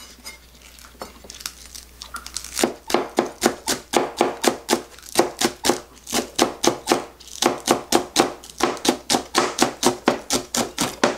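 A knife finely chops green onion (scallion) on a board in steady, rapid, evenly spaced taps, close and crisp. The pace picks up after a brief quieter start and holds a brisk rhythm throughout.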